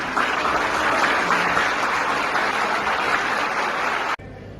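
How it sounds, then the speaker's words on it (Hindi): Audience applause at a welcoming tribute to a martyred squadron leader, a broad, sustained wash of clapping that runs evenly for about four seconds, then cuts off abruptly into near silence. "अभिनंदन एक तालियों के साथ"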